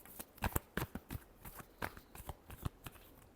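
A deck of tarot cards is shuffled by hand at close range, giving a quick run of crisp, irregular riffling slaps and flicks with no talking.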